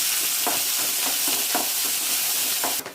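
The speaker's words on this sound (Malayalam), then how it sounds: "ചെറിയ ഉള്ളി അരിഞ്ഞത് ചേർത്ത് നന്നായിട്ട് വറുത്ത് കൊടുക്കാം" Steady, loud sizzling of shallots and chillies frying in hot oil, with a few soft stirring scrapes, ending in a brief sharper hiss.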